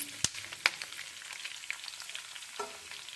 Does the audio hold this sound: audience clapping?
no